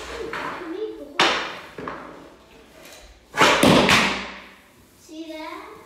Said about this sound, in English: When I shoot, I can make the hole.